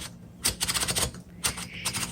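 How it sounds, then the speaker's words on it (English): A 1936 Smith Corona Standard flat-top typewriter having paper loaded by turning the platen handle, giving bursts of close mechanical clicking and ratcheting in two main rounds. "Okay, so let's load our paper."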